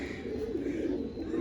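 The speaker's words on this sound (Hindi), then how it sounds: "साथ ही साथ एक कबूतर अपनी ऊपर वाली जाल पे आके बैठ गया है" A pigeon perched on an overhead net coos nearby, a low, soft, throaty murmur rolling continuously and alone for a moment.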